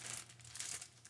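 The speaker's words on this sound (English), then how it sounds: "I prefer like just a plastic bag." A plastic bag crinkling as it is handled in a home kitchen while preparing to bread salmon for frying, a steady rustling texture throughout, close and soft with no voices.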